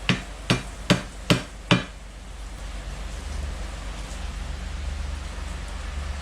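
A socket used as a driver tapping a seal into the gearcase of a 1992 Johnson 25 hp outboard: five sharp, evenly spaced metallic knocks, close and loud, then a steady background hiss.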